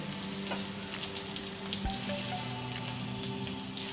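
Garlic and green chilli frying in ghee in a pan for palak paneer, giving a soft, steady sizzle with faint crackles, quiet and close, without talk.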